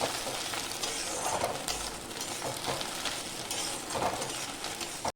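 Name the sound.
bay leaves and whole garam masala frying in hot oil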